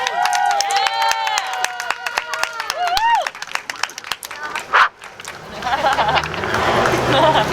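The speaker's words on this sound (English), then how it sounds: "Please give him a round of applause." A crowd at an outdoor press conference for the unhoused claps and cheers in a loose, rising burst after a speaker's voice, with chatter and hubbub mixed in.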